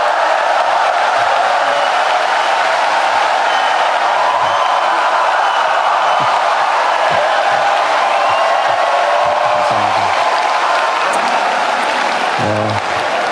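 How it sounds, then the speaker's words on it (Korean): A large congregation at a Korean Easter union worship service applauds and cheers as a pastor comes forward, a dense sustained roar of clapping and crowd noise with scattered whoops, loud and continuous throughout. "목사님 나오실 때 박수로 환영하겠습니다"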